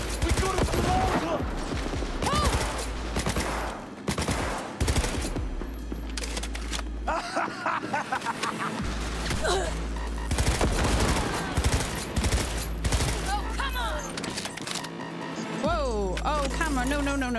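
Gunfire in Cyberpunk 2077, loud rapid bursts and volleys of shots repeating through most of the stretch, mixed with booms and game music while people talk over it.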